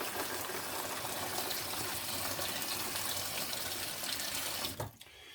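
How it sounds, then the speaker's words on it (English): Running water pours steadily from a kitchen tap onto dehydrated mushrooms set to soak, a loud continuous gush that cuts off abruptly near the end, leaving quiet room tone. "soak them in water for a little bit"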